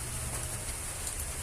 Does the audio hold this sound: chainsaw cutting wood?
no